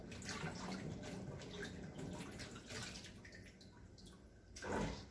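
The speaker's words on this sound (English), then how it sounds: "I'm putting the grapes in this pot, and I'm going to add some water" Water pouring into a big pot of wild muscadine grapes, a steady splashing and gurgling stream with a brief louder surge near the end, fairly quiet overall.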